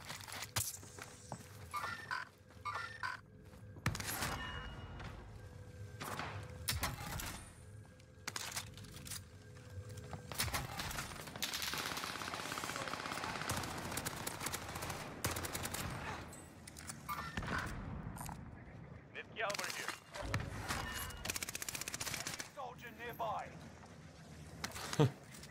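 Gunfire in the shooter game Call of Duty: Warzone, with bursts of automatic fire and single shots spread through a busy soundscape of footsteps and game effects, at moderate loudness.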